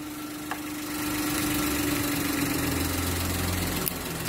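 A Daihatsu Ayla 1.0 engine runs with an iForce module plugged in, a steady close idle hum with a faint whine that rises slightly and then holds even.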